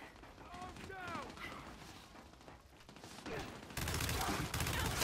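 Gunfire from a Gears 5 Versus Arcade multiplayer match, with scattered shots and mechanical clatter under a player's talk and game voices, building to a louder sustained burst near the end.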